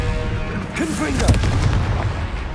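The Confringo explosive spell in the video game Hogwarts Legacy goes off as a loud, booming blast with a rumbling tail, and a shouted voice sounds just before and over it.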